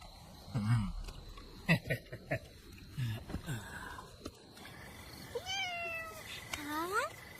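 A village house cat meows several times at close range, short rising and falling cries spaced through the scene, with lighter household noise between them.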